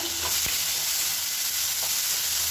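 Tomatoes sizzle steadily in a hot pan, a continuous hiss with a couple of soft clinks from stirring.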